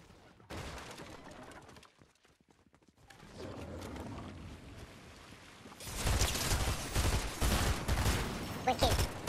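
Bursts of automatic gunfire in a Fortnite zero build duo match, rapid rattling volleys that grow louder and denser toward the end, with quieter game noise before them.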